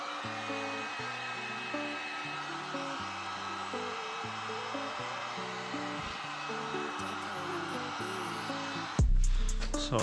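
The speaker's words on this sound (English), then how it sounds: "Now I'm gonna use this heat gun, and the first point is gonna be right here somewhere on the edge." A heat gun warms a plastic radiator support on a wrecked VW Golf GTI, giving a steady blowing hiss throughout under background music, ending in a louder, closer rush of air.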